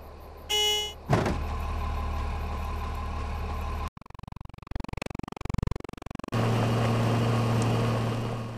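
A car in the game Defiance: a door thunks shut, then an engine idles steadily before revving and driving off in uneven surges, ending on a louder sustained engine drone.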